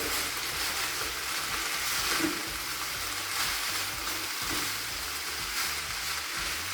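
Herbs are stirred through a hot pan of pasta and meatballs with Parmesan, producing a steady soft sizzle with occasional scrapes of stirring, under faint background music.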